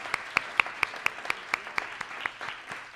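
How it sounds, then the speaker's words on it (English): Claps ring out from an audience at a community awards evening, honouring the staff and volunteers who coordinated the event: a sparse, fairly near round of about a dozen distinct hand claps spread evenly through the moment. "Anyone you see standing helping you out coordinate, give those ladies a round of applause."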